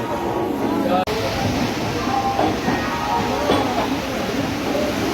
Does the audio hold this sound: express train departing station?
yes